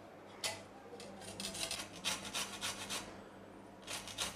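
Lemon peel is rubbed against a kitchen grater in quick, quiet rasping strokes, a soft scratchy back-and-forth close by with brief pauses and no voices.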